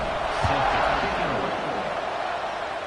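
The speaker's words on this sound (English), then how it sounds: "this crowd is buzzing after that last score" A football stadium crowd at a Georgia Tech vs. Kentucky game keeps up a loud, steady roar and buzz before a kickoff, a dense wash of many voices.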